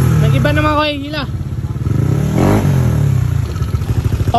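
A tuned motorcycle with bolt-on parts and an S2 cam revs loudly on a test ride, the engine rising and falling close by while people talk over it.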